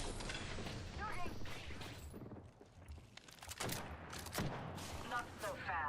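Gunfire in a video game erupts in bursts of rapid shots and booms over a busy mix of game effects and mechanical sounds, with game voice lines spoken over it.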